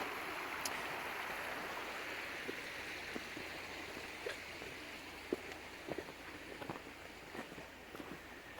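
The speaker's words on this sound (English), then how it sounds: "you always hear the water running, which is really calming and soothing" Water running steadily in a creek beside a one-acre rural camp, a soft continuous rushing wash with occasional small clicks and knocks on top, fairly quiet.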